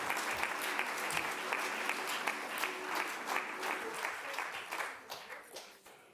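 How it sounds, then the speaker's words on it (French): An audience at a talk about freediving claps together in a sustained burst of applause, dense and fairly distant, then tapers off into a few scattered claps as it dies away. "c'est comme ça qu'on applaudit"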